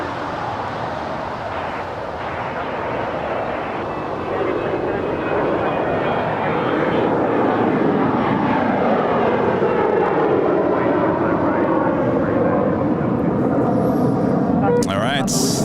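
A heavy jet airliner takes off from runway 25 right at LAX, its engine roar building from a broad rumble into a loud, sustained thrust that swells and holds, with radio talk over the top.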